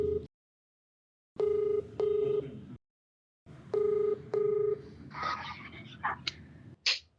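Touch-tone dialing beeps sound as a telephone call is placed: paired tone bursts in short groups separated by silences, followed by faint line noise and brief clicks near the end.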